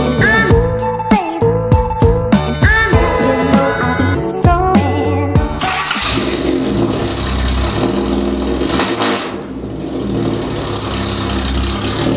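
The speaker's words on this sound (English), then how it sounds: "we've just set off from the Mayfair showroom and I'm with Stuart" Roy Salvadori's classic Jaguar XK120 pulls away from a Mayfair showroom in London, its engine note rising into a loud, continuous rumble after a stretch of music.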